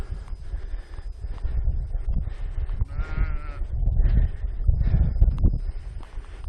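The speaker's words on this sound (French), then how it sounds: "Même des moutons qui font la marche." Several sheep bleat at a moderate distance in New Zealand, calls overlapping and wavering, over a light wind and rustling background.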